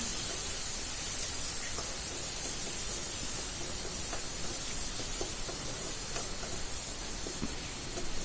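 Tomatoes and onions frying together in a pan for garlic kuzhambu, giving a steady, even hiss and sizzle with faint occasional pops, close and continuous.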